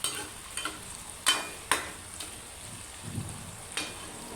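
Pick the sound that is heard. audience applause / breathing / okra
okra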